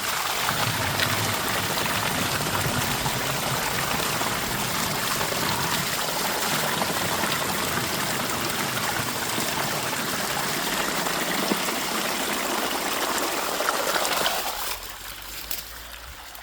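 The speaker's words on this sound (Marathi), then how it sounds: "खूप पाणी मारत आहे" Water gushes from a pump on a farm in a strong, steady rush for most of the stretch, then abruptly drops to a quieter flow near the end.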